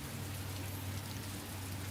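Steady rain falling on a surface, a continuous even hiss with a low rumbling undertone, moderately loud and unbroken throughout with no voices.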